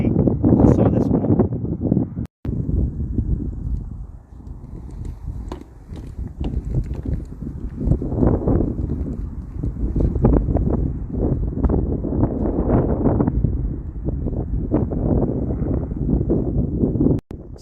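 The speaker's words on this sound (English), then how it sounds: "we're standing here on this very windy day" Strong wind gusts roaring across an open ancient hilltop site at Shiloh, a heavy continuous buffeting rumble with a sharp dropout partway through.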